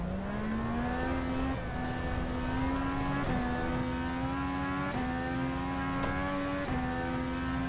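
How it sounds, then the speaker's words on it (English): A race car engine in the iRacing sim whines with a thin, vacuum-cleaner-like tone, rising steadily through the gears with brief dips at each shift, loud and continuous. "it kind of sounds like I got a Hoover engine in the back"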